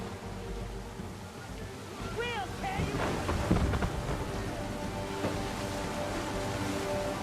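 Thunderstorm rolling in at sea in Assassin's Creed III, with steady rain hiss and low rumbling thunder swelling midway, a few faint gull-like cries early on, and no talk.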